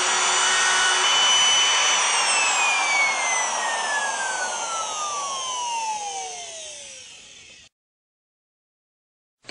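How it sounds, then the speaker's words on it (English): Plunge router with guide bushings cutting a tenon in a General #870 mortise-and-tenon jig: a loud, steady high whine that slowly drops in pitch as the motor spins down, then cuts to silence. "Using a plunge router with the supplied guide bushings, it takes just seconds to cut a perfect tenon."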